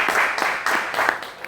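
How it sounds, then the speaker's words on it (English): Gallery crowd at a commemorative MLK50 gathering applauding, a short dense burst of clapping with cheering voices mixed in. "let's give everybody a round of applause"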